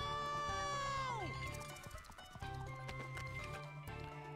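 A seahorse gallops in SpongeBob: The Cosmic Shake, its hoofbeats clattering quickly after a descending whistle-like tone, mixed with game music and other effects.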